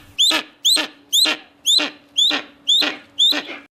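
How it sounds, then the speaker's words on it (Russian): A steppe eagle, a rare red-listed bird of prey, gives seven short, evenly spaced squeaking calls with a grunting undertone, each sharp and close, with no other sound between them. "Короткий писк с прихрюкиванием. Такие необычные звуки издает краснокнижный степной орел."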